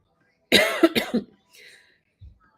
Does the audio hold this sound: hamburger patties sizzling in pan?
no